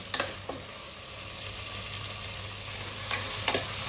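Rice being stirred into a pot of prawn and gongura pulao, a soft steady scraping and sizzle with a few sharper spoon knocks near the start and end, no talking.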